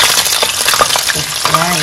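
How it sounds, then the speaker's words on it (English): Loud, close sizzling and crackling of meat frying in hot oil for beetroot stew, with bubbling pops and a brief stirring scrape. "Our oil is ready, so go ahead and add the meat"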